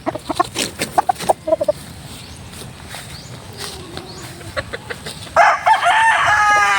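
White Kelso roosters, with sharp clucks and squawks from close by, then a loud drawn-out crow rising near the end, no voices over it.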